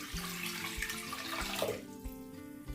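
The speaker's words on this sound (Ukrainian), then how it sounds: "Беремо каструлю, виливаємо сюди літр води" A litre of water runs steadily into a pot, a low hollow gush that changes pitch as it fills, with a brief clatter at the end.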